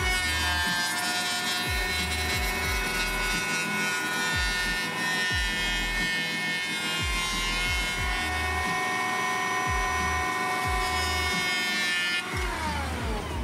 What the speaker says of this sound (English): I settled for leveling the top surface of each shelf board with my handheld power planer